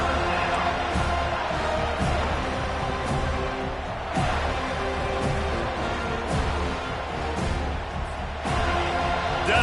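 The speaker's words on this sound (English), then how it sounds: "Decibels rising as the crowd gets behind this defense on 3rd down" Stadium crowd noise in an EA college football video game, a loud continuous roar building behind the defense on third down, with a few sharp thuds punctuating the din.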